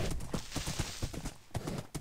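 Horse hooves clip-clopping steadily in Minecraft during a UHC match, a quick regular rhythm of close, clear hoof knocks repeating through the whole stretch with no voices over them.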